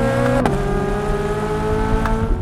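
A high-revving V8 engine in a new Corvette Z06 sports car howls steadily at close range, its pitch climbing and holding near the top of the rev range.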